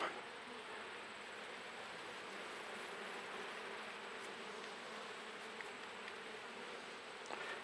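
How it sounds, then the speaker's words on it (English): Honey bees buzzing as they are brushed off a honeycomb frame, a dense steady hum of many insects close by, fairly quiet and continuous throughout. "Isn't it therapeutic just to watch somebody brush bees off of a frame like this?"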